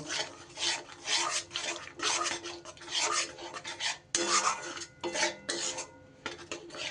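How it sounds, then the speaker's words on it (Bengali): Spices being sautéed with two tablespoons of whisked sour yogurt in a pan, heard as repeated raspy scraping and stirring strokes of a spoon against the pan, close and steady with brief pauses. "দইটা দিয়ে এবার ভালো করে আবারও কষিয়ে নেব।"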